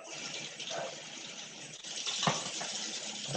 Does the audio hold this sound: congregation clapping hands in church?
no